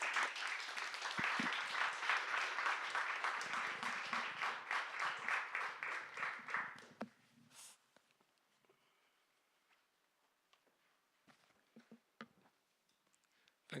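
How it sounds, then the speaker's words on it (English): A symposium audience applauds a speaker with dense, sustained clapping that holds steady for about seven seconds and then tapers off into a few scattered claps in a quiet hall. "Please give our speaker a warm round of applause."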